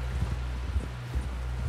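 Horse hooves clip-clop in the video game Red Dead Redemption 2, a few soft, irregular thuds over a quiet windy background.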